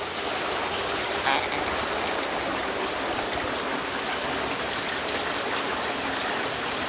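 Steady, dense hiss of heavy rain pouring down continuously on a rural smallholding, loud and enveloping, with no voices.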